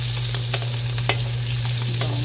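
Sliced onion sautés in a hot pan, a dense, even sizzle with a few scraping strokes of the spatula as it is stirred, close and loud with a low steady hum underneath.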